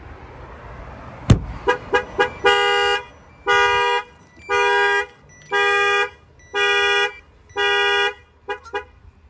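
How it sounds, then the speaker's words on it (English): A 2021 Toyota Tacoma's car alarm blares with one sharp thump, then short rapid chirps followed by five long, loud, evenly spaced horn-like blasts and a few closing chirps, with no talking. "So if somebody bangs on the window, opens any of the doors, I would trip the alarm as well."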